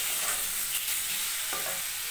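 Potato pieces with green chili, salt, sugar and turmeric stirred in a frying pan, a steady soft sizzle with a spatula scrape or two, close and without talk.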